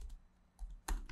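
Quick keystrokes tapped on a computer keyboard while entering a command on a Windows PC, a few short clicks in brief bursts, close and alone.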